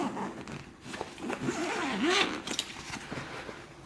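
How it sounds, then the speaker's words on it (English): A zipper on the front cover of a 2019 pram is drawn open in one smooth, close pull lasting under a second, with light handling rustles before and after. "So you can unclip it like that and unzip this."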